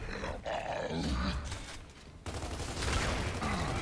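Gunfire in the video game Gears of War 2 appears as dense, rumbling bursts of shooting mixed with roaring game effects, fairly faint and continuous across the moment.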